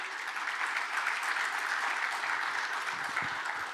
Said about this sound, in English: So maybe perhaps a round of applause